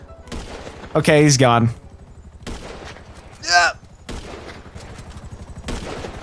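Gunfire in GTA 5 Online: several loud, sharp shots are spaced a second or two apart. Excited voices talk and shout between the shots.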